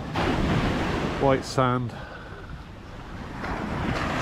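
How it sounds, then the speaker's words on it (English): Choppy sea surf washes steadily onto a long sandy beach in Grenada, a continuous windy rush of waves close by, with someone briefly speaking near the start. "A little bit choppy in the sea"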